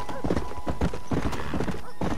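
Horse hooves clip-clopping in a steady, rhythmic gait while riding in the Red Dead Redemption video game, moderately loud and close, with someone talking over them and faint game ambience underneath.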